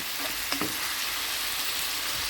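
Vegetables for borscht stew with a steady close sizzle while a spoon stirs and presses them, and a couple of brief scraping knocks stand out early.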